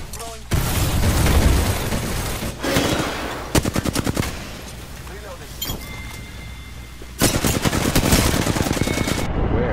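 Shooter video game gunfire: loud automatic bursts and single rapid shots come in several clusters separated by quieter gaps, with a sharp stutter of rounds near the middle and a heavy burst toward the end, players talking over it.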